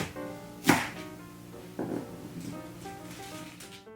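A knife cuts lengthwise through the white stems of napa cabbage along the fibers, giving two distinct crisp chops and then softer slicing taps, close and alone against a faint background hum.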